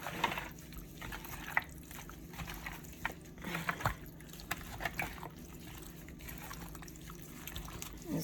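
Whisked egg poured over raw chicken pieces and massaged in by hand for Asian fried chicken: soft, wet squishing and dripping, close up and quiet, with scattered small splats.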